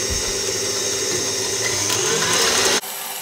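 A stand mixer whips meringue at high speed as hot honey syrup goes in for a nougat glacé, giving a loud, steady whirring hum that runs unbroken for nearly three seconds before cutting off abruptly.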